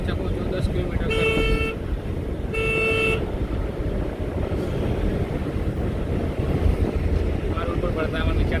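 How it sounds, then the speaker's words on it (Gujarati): Heavy road traffic on the Ahmedabad ring road, with a continuous loud rumble of vehicles and two long car horn blasts standing out early on. Wind buffets the microphone throughout. "આજે આખું ટ્રાફિક બતાવું કેટલા સુધી ટ્રાફિક થાય અમદાવાદનો ટ્રાફિક રિંગ રોડ"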